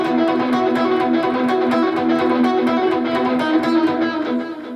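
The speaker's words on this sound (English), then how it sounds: "So again, it's just a quick delay." A guitar note sounds with a quick rhythmic delay effect, its echoes pulsing in an even, fast pattern that sustains loudly throughout.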